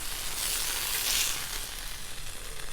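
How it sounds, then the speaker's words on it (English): Sausage links sizzle on a hot Blackstone griddle, a steady broad hiss of fat frying that holds at an even level throughout, with no voices. "We're gonna put some sausage links on the next one."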